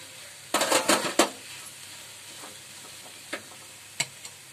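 Drumstick leaves being stir-fried in a pan, with a burst of loud scraping and stirring clatter early on, then quieter gaps broken by a few sharp utensil taps against the pan.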